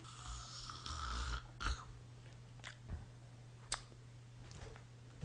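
A voice imitates snoring with a few rough, breathy snores in the first half, then scattered faint clicks over a steady low hum.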